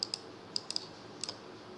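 Someone types on a computer keyboard, a handful of sharp, quiet key clicks in small clusters with short pauses between them in a quiet room.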